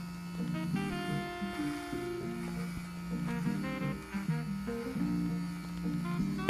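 Close, steady buzzing from an electric beard trimmer cutting sideburns in a hotel bathroom, its hum wavering slightly in pitch as it meets the hair, with no voices.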